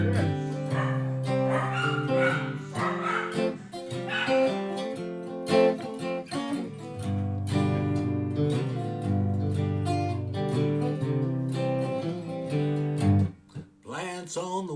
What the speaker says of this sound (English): Sorry about the dog barking.